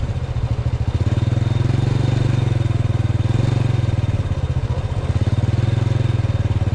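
Small motorcycle engine running steadily at close range, a continuous low throbbing drone with a slight rise partway through, no voices over it.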